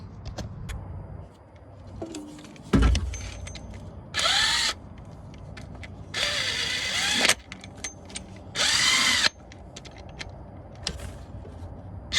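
Power tool whirring in three sustained bursts of about a second or two each, with clicks and handling noise between, while new power steering pulley bolts are tightened on a Suzuki Samurai during a Roadless Gear Trail Tough power steering kit install.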